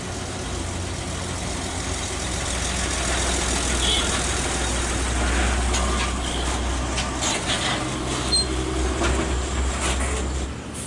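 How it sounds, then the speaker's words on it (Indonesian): An NPM Pircansa 38 bus pulls into the Bukit Surungan bus terminal in the morning, its engine rumbling steadily and fairly close, with a low drone running throughout and scattered terminal noise on top. "satu unit bus NPM Pircansa 38 masuk di Terminal Bukit Surungan pada pagi ini dari arah kota Bukit Tinggi"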